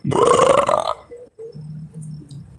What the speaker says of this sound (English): that wasn't a demon, that was a belch